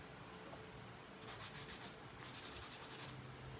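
Hand sanding scrapes in quick repeated strokes on painted furniture, distressing a secretary desk, a gritty rubbing rhythm that starts after a quiet moment and continues close by, with no talking.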